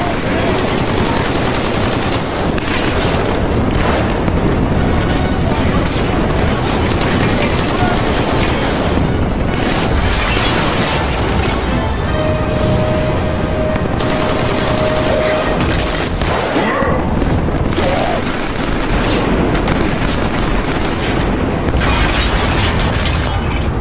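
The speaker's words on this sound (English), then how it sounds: "contact. Heavy fire!" Heavy battle gunfire in Killzone 3: continuous loud machine-gun fire and explosions fill the whole stretch, dense and relentless, with shouted voices mixed in.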